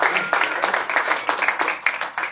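An audience at Winter's Jazz Club in Chicago applauds, dense and fairly close clapping that holds steady through the whole moment with no talk over it.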